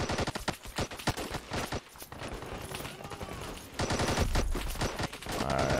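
Grenades burst and guns fire in a battle in the game Call to Arms, set around an Afghan village under a Russian assault. Rapid shots and heavy blasts overlap densely, loud and close, with a rumbling lull midway.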